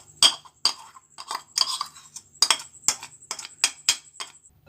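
A spoon clinks and scrapes in a bowl, mixing shredded chicken with cheese, pepper powder and ketchup for chicken cheese buns, in a quick irregular series of sharp close metallic taps with no talking.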